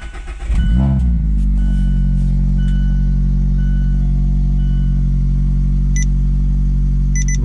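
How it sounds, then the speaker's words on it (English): A Mazda MX-5 ND engine, freshly tuned, cranks briefly and catches, then settles into a steady, loud idle with a low droning hum that holds for several seconds with no talking. "turn the car off for 20 seconds, and then to start it and let it idle for a full minute without touching anything"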